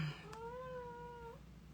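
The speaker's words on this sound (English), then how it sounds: "My cat's going to make an appearance." A cat lets out a single drawn-out crying meow, clear and tonal, close but fairly quiet against a low room hum.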